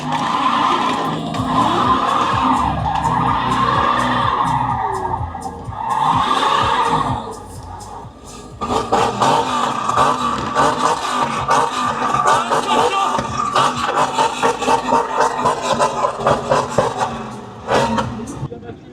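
Cars lapping a race circuit at a club event, a steady roar of engines broken by bursts of tyre squeal and skidding, with a brief lull midway and voices talking over the noise.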